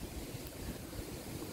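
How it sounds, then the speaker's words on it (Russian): Rough, stormy sea heard faintly from a distance, a steady low roar of surf mixed with wind noise on the microphone, no voices. "И даже здесь слышно, как море бушует."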